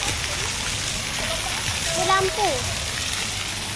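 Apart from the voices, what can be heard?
flowing water at a water feature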